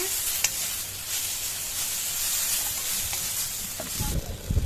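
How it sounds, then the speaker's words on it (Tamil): Ridge gourd with a little coriander leaf frying in a pan, giving a steady low sizzle throughout with a few sharper stir clatters near the end, close and fairly quiet. "இதுவும் நல்லா வறுத்துக்கலாம் ஒரு 2 நிமிஷம்"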